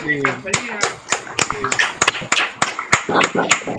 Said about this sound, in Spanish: Ahí te estamos recibiendo con un caluroso aplauso, Cristian Forteza.